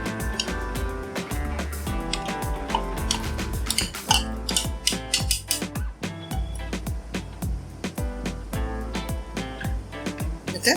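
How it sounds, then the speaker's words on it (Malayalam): Chicken is mixed by hand with one tablespoon of cornflour and three tablespoons of maida for chilli chicken. A utensil scrapes and clinks against the bowl in a dense, busy clatter that continues throughout. "ഇതിനെ നന്നായിട്ടൊന്ന് മിക്സ് ചെയ്യാം."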